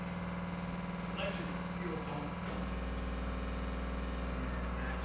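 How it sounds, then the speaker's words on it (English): A 6-volt electric fuel pump runs in a Hudson car, giving a steady, even mechanical hum with a constant low drone that shifts slightly partway through, alone with no talking. "what you're hearing is a 6-volt fuel pump"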